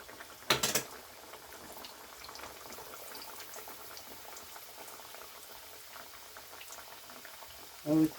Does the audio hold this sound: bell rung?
no